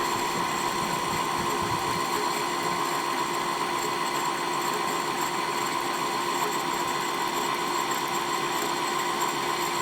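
A Brother SE625 sewing and embroidery machine winds a bobbin, giving a continuous high mechanical whir with a steady motor drone and faint rattle, close and constant for the whole stretch, with no one speaking.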